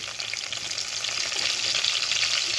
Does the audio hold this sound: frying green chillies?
yes